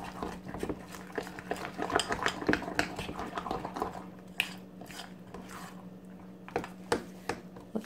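Chocolate chip muffin batter stirred in a bowl, with steady scraping and clinking of a utensil against the bowl, close and moderately quiet, continuing for several seconds with no talk.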